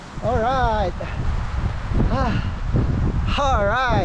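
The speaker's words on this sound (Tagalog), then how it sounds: "Ang lakas ng hangin, oh" Strong wind rumbles and buffets steadily throughout on the Osocan Spanish Trail in Atok, Benguet, with someone talking briefly over it.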